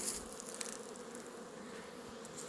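Honey bees buzz in a steady, soft hum at a hive during a January cleansing flight, a continuous swarm drone heard from close by.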